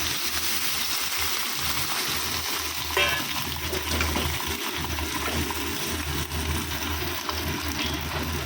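Pabda fish curry made with ridge gourd, tomato, onion paste, mustard paste and cumin paste simmers in a pan, giving a dense, steady bubbling and hissing wash with a brief faint clink midway.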